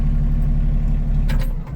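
Diesel engine of a Kioti CS 2530 compact tractor idling with a steady low rumble, then faltering and dropping away as it is shut down near the end.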